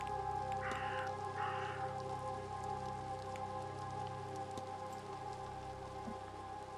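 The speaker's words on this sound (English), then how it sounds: "It's rainy, of course." Rain falls in the spooky detective video game The Séance of Blake Manor, a soft, steady patter under a low ambient hum, faint and continuous, with a couple of brief higher tones early on.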